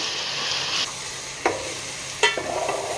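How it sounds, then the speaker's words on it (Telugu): Tomatoes stirred in a pan for Nellore-style fish curry, sizzling steadily alone, with a few sharp spoon scrapes against the pan. "టమాటాలు వేసి బాగా కలిపెట్టాలండి."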